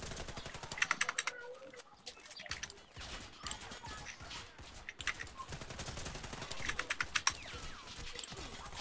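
Rapid bursts of machine gun fire ring out in a Warface match, repeated volleys with sharp crackling hits, mixed with clattering keyboard typing throughout and a faint voice at times.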